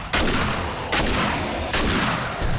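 A shotgun in 7 Days to Die goes off three times at roughly even intervals, each a loud, close, booming blast with a decaying tail, and no voices over the shots.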